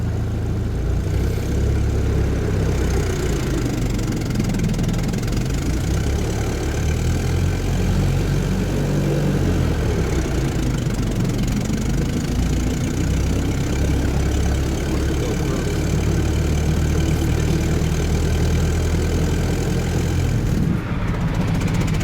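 A car engine in Paris pulling away on a steep uphill after a stop, a steady low drone that rises and labours slowly throughout, close and continuous with no talk.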